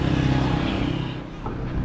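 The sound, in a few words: tricycle engines revving at a Pangasinan tricycle parade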